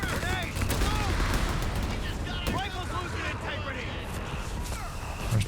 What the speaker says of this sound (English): bunch of grenades coming out